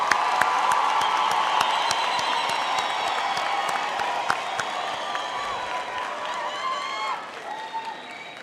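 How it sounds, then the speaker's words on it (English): Crowd at a university autumn graduation ceremony clapping for graduates, sustained applause with whoops and cheers scattered through, tapering off near the end with a faint voice. "I think we should all give our graduates a hand of applause"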